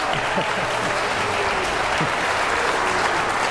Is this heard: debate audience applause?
yes